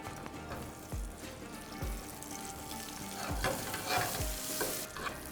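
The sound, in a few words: eggplant frying and stirred in a pan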